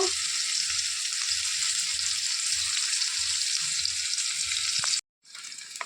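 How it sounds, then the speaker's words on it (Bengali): Nigella seeds and onion sizzle in hot oil in a kadai, a bright continuous frying hiss with soft stirring bumps beneath, cutting out abruptly near the end before resuming. "তেলের মধ্যে দেবো কালো জিরে, পেঁয়াজ দেবো"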